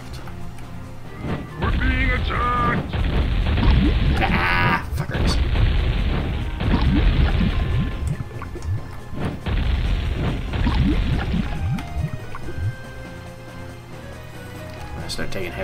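Cannon and ballista fire in the Warcraft 2 strategy game: repeated heavy booming impacts and crashing hits in dense bursts, loud and overlapping, with game sound effects throughout.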